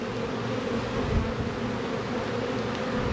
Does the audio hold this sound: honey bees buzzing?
yes